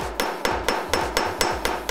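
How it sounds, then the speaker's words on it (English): Hammer striking metal to flare out its end: eight sharp, evenly spaced blows in a steady rhythm, close and loud, each ringing briefly before the next, with no talking. "Always look at what you're hammering."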